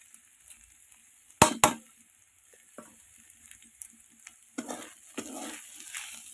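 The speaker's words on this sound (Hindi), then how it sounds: "एबे एथिरे मु भाजी रखी छतु को पकई नेबी" Mushrooms fry in a pan with potatoes and mustard paste, giving a faint, steady sizzle broken by several sharp clinks and scrapes from stirring.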